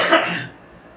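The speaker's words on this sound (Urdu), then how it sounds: "کھانسی واسی کا معاملہ ہے." A single short cough with a throat-clearing rasp, close and fairly loud, cutting off after half a second into near silence.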